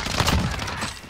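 Loud, close gunfire from the video game Call of Duty: Modern Warfare comes as a dense rattling burst of shots that fades slightly toward the end.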